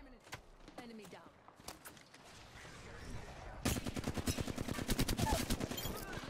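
Apex Legends gunfire: scattered shots at first, then a rapid automatic burst of closely spaced rounds, loud and near, with players talking over it.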